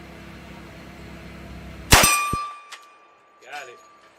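A Military 1911 pistol round strikes a small steel gong target with one sharp, loud metallic clang that rings on with a fading tone, followed by a brief human sound shortly after.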